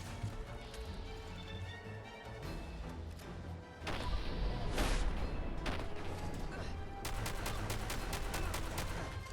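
Handmade shotgun fitted with a muzzle brake and recoil-compensating stock firing in Fallout 4, dense repeated blasts and crashes layered over game ambience, loud and continuous with a burst of heavier impacts midway.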